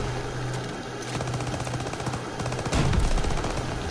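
Rapid automatic gunfire from a weapon in a first-person zombie video game, a dense continuous stream of shots with a louder burst near the end and no talking over it.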